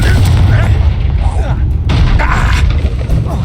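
A Confringo spell in the Hogwarts Legacy video game sets off booming blasts and crackling impacts, loud and dense throughout, mixed with game voices.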